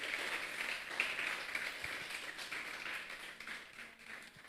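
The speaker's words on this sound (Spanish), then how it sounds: "¿Cuántos pueden brindarle un fuerte aplauso en esta noche?" Church congregation applauding during an evening service, a moderately loud, steady wash of clapping that thins out gradually toward the end, with no voices over it.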